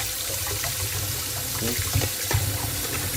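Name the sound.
water running while cleaning sink drain pipes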